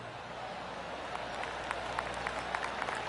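A crowd in the PGA Tour 2K23 golf game gives a polite golf clap. The light, scattered hand claps grow over a constant background murmur.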